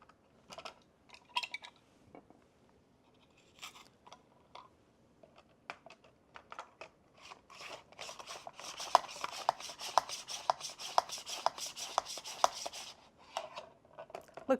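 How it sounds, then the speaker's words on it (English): Onion being sliced on a kitchen slicer at its second setting, starting with scattered taps and scrapes, then a rapid run of rhythmic clicking strokes, close and fairly quiet. "Okay, let's slice an onion. We're going to do it on the second setting."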